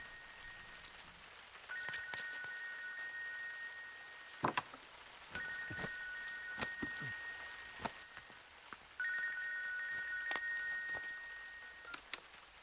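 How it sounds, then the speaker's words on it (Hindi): A phone rings in three repeated electronic bursts, each a couple of seconds long with gaps between, over a soft background with occasional clicks. "जरा फोन तो उठाओ।"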